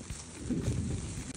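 Heavy rain pours down at Batu Karas beach, a steady, dense wash of noise that stays close and fairly loud for the whole stretch with no voices.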